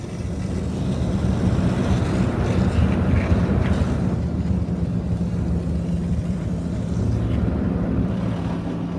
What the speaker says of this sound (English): a nice high power rinse pass